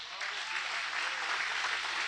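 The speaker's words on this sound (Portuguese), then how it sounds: "Aplauda bem forte ao Senhor" A church congregation applauds during a worship service, a steady, dense wash of clapping at moderate volume lasting throughout.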